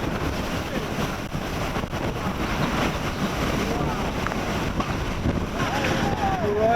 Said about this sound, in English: It's going windy, mate. It's getting windy.